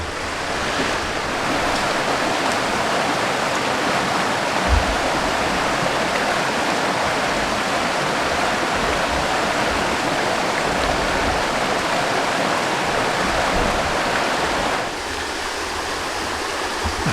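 A stream rumbles steadily over rocks near waterfalls in a forest, a continuous close, loud rush of water that eases slightly near the end.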